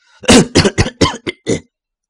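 A rapid run of six harsh, violent coughs comes up close and loud with no other sound, then silence.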